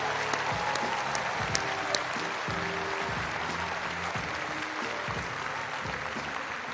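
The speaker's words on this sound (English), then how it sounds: "And I'd love all of you to give a big round of applause for Sally Coburn." A crowd at a Transplant Games opening ceremony applauds steadily throughout, dense clapping with some voices and tonal sounds mixed underneath.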